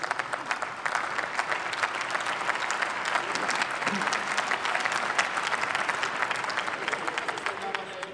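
Sustained applause for the finance minister fills a large parliamentary chamber, many hands clapping steadily for several seconds with a dense, even texture.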